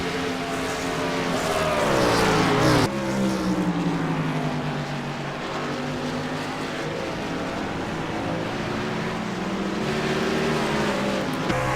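Race cars on a road racing track, engines roaring loud and steady as they pass, pitch sweeping up and down through gear changes with a sudden shift partway through, no talk over it.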